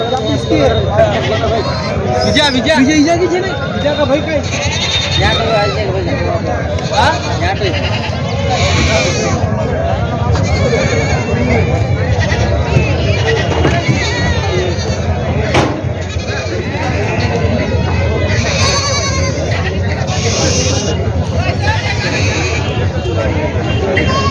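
Goats bleat repeatedly amid a busy crowd at a weekly goat market in Vasmat, India, with constant chatter and voices talking over a noisy, bustling background.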